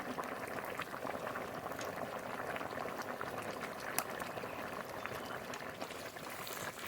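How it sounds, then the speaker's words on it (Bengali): A pot of curry with yardlong beans, potatoes and fried fish bubbling at a steady boil, a soft continuous burble of liquid with small pops, fairly quiet and alone. "এবার আর একটু খুব ভালো করে জাল দিয়ে নেব"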